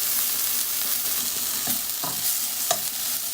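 Garlic and tomatoes sauté in a hot pan for Mexican red rice, a steady close sizzle broken by a few scraping stirs of a utensil.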